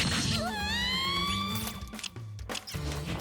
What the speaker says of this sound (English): There is a siren going off.